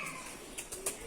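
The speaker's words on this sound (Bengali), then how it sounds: "আবার গেল কবুতর আওয়াজ নিশ্চয়ই আপনারা শুনতে পাচ্ছেন।" Pigeons coo around a house where jackfruit is being picked, giving a few short, soft calls that stand out faintly over quiet background hiss.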